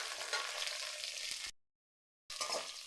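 Onion and curry leaves sizzling and frying in a pan while a green banana stir-fry is cooked, a steady close hiss that cuts off briefly, then resumes.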